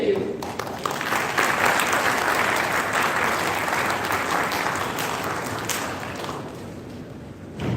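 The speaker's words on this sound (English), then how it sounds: "please give a big round of applause to our chief guest" Audience at a national conference applauding the chief guest, a strong sustained round of clapping that swells early, holds steady, then fades toward the end, with a voice faintly mixed in.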